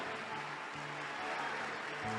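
Church congregation applauding during a worship seminar: a faint, even patter of many hands clapping throughout, with a low steady hum beneath.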